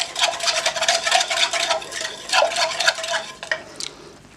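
A spoon stirs gelatin into hot milk, scraping and clinking steadily against the sides of a pot in quick, repeated strokes. The sound is close and continuous, with a few brighter knocks near the end and no talking.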